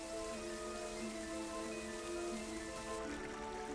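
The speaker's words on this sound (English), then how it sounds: "the running water around them is very loud" A stream in the Atlantic Forest runs over wet rocks, a steady, faint, even rush with sustained tones layered over it.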